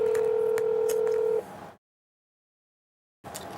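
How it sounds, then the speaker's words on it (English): A landline phone plays a steady dial tone with short keypad beeps over it, then the line goes dead silent for over a second before a faint burst of tone returns. "Phone noises, like legit, freak me out."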